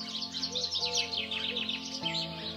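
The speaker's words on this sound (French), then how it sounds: "Les oiseaux chantent." Birds sing and chirp in a village in the Sancy area, bright overlapping calls at moderate distance over a low steady hum, continuous throughout with no voices.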